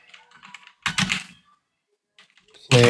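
Keystrokes on a computer keyboard while entering a command in a terminal, a short burst of close clicks near the start, then a quiet gap and a louder flurry of taps at the end.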